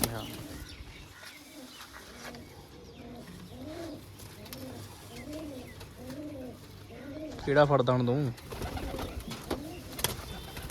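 Pigeons coo in a steady series of low, rounded calls repeating at an even rhythm, fairly near, before someone briefly speaks over them near the end.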